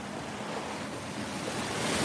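Ocean surf at Fort Lauderdale Beach washes in as a steady, close hiss of breaking waves, roughened by wind buffeting the microphone, with no talking.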